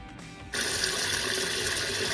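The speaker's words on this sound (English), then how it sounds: "I'm going to run cold water over them" Cold tap water starts running over boiled eggs in a pot after a quiet moment, then a steady, bright rush of flowing water continues close by.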